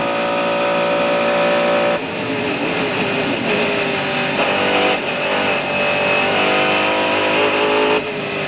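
On-board a Mercedes CLR race car at Le Mans in 1999, the engine screams at high revs down the back section, loud and close, with several sharp gear shifts breaking the sustained howl.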